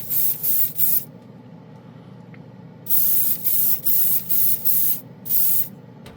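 An airbrush sprays clear coat onto a spoon in short hissing bursts: three quick ones, a pause of quiet, then about six more in a steady rhythm.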